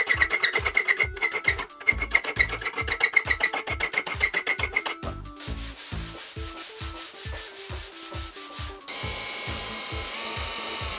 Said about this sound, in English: Just lots and lots of filing and sanding and filing and sanding.